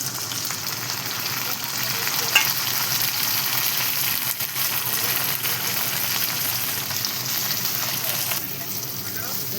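Tomato frying with garlic, cumin and green chillies in hot oil in a kadhai, giving a loud, steady, close sizzle that runs unbroken throughout with a faint crackle.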